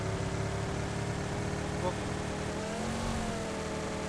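A car engine in a video game drones steadily and fairly quietly, its tone shifting slightly in pitch as the vehicle drives, with no other clear sounds over it.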